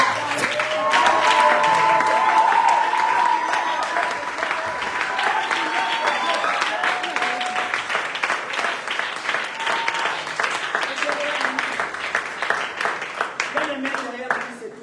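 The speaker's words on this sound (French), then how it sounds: "je voudrais que tu acclames très fort pour le pasteur" A church congregation claps and cheers loudly for the pastor, a dense burst of applause that slowly thins out, with a voice talking over the crowd.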